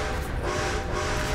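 A train in Red Dead Redemption 2 rumbles steadily nearby, a dense continuous rolling drone with faint tonal hum throughout and no voices.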